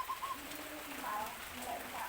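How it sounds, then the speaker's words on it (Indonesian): Zebra dove (perkutut) cooing in a garden setting with many plants, soft repeated high coos in a gentle rhythm over a low hum and light background noise. "Sehingga kita juga kalau menikmati perkutut, menikmati anggungan itu enak."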